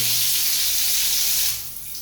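Water spraying hard from a household shower fed from a rooftop tank, a loud steady hiss that eases off slightly near the end.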